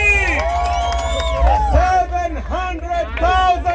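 A crowd at a fundraising auction bursts into loud, sustained cheering and whooping, with excited shouts rising over a voice talking throughout.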